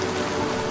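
A cool afternoon rain shower falling steadily, a dense, even hiss of drops on surfaces, close and constant with no voices.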